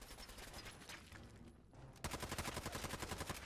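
Handmade rifle gunfire in Fallout 4, a loud, fast automatic burst of evenly spaced shots close up, rising sharply after a denser mix of earlier firing and combat noise.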